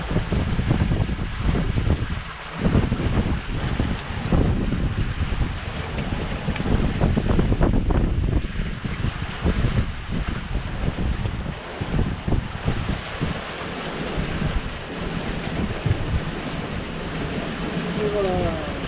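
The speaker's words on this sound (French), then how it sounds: "Il y a du vent là." Strong wind buffets the microphone continuously aboard a sailboat in the Gulf of Patras, Greece, roaring and gusting over water noise, with occasional voices mixed in.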